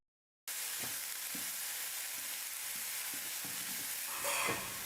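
Boiled vegetables with salt sauté in a hot pan, giving a steady close sizzle and frying hiss with light scraping stirs throughout and a brief louder burst near the end, no voices.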